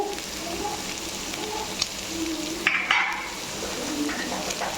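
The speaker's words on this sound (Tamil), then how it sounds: "இது எல்லாத்தையும் போட்டு வதக்கலாம் வாங்க" Onion, carrot, cabbage and drumstick leaves sautéing in two tablespoons of oil, a steady frying sizzle with a few sharp stirring clinks and scrapes of a spoon against the pan, close up.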